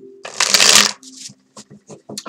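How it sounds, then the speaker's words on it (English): A deck of tarot cards being shuffled, one brisk riffle of close papery flutter followed by someone speaking in short phrases. "while I am shuffling the cards"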